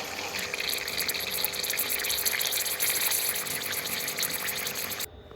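A steady hiss of air and water escaping under pressure as a central heating pump is vented, with a faint gurgle, cuts off abruptly near the end.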